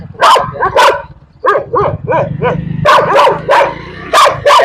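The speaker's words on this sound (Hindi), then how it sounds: "हमारे पीछे कुत्ता लग गया है भाई के" A dog barks repeatedly at night while trailing people through a city street, loud and close, with clustered barks in uneven bursts over a low rumbling background.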